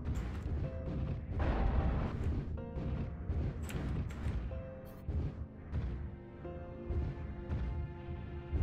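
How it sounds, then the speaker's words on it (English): Artillery strike explosions in the video game MechWarrior Online, a dense run of heavy booms and crashing blasts rolling one after another for several seconds, loud and close, with steady mechanical hum underneath. "Artillery strike online"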